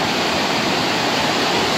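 A mountain river in an Uttarakhand forest rushes loudly and continuously, a dense broadband roar of fast water close by, with no voices.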